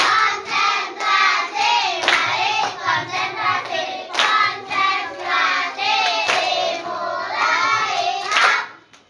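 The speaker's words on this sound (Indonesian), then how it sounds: "Tepuk konsentrasi" Children perform a concentration clapping routine at an evening religious gathering, a patterned series of sharp group claps in rhythmic bursts mixed with chanted voices, ending abruptly.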